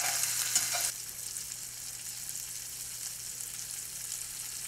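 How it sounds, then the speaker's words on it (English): A seafood omelette with shrimp and cheese sizzles quietly in a pan, a soft steady frying hiss after a brief louder burst at the start. "We're just going to let that cook for a couple minutes"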